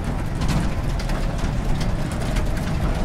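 An electric Land Rover in four-wheel drive and high gear rolls along, producing a continuous loud broadband rumble of tyres, wind and drivetrain with no engine note.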